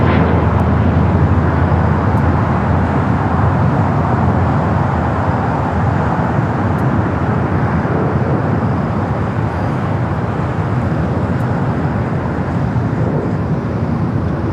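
An airliner takes off from runway 25 right at LAX, a loud, sustained broadband jet roar holding steady for the whole stretch, with a constant rushing blast and no voices.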